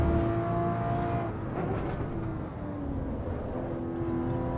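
A steady video game car engine drones loudly throughout, holding a mostly even pitch with no talking.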